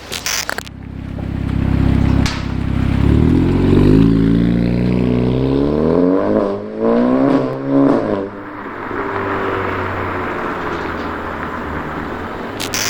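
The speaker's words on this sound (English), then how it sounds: "We're just doing a little test run from inside the car and seeing how it sounds on the inside with the windows down." A Skoda Octavia with a straight-pipe turbo-back exhaust and Borla muffler, heard from inside with the windows down, revs up through rising gears with whooshing shifts, then settles into a lower steady drone.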